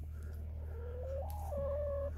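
A single chicken gives a short, drawn-out cluck that rises slightly, close by, over a low steady hum.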